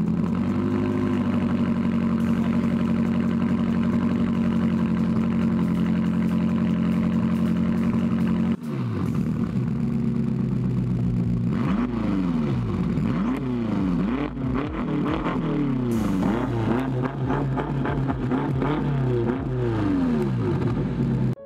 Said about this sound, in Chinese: 咱们先来听一听这车没有排气消音器的这个声音怎么样。